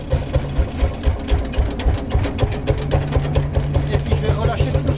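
A single-cylinder tractor engine at an old-fashioned wheat threshing thumps in a steady, loud, close rhythm, its beat quickening slightly as it speeds up.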